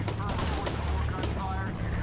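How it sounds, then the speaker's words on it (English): Rapid gunfire in the Shadow of the Tomb Raider video game, dense overlapping shots in a busy firefight mixed with game voices. "Gunfire, you copy?"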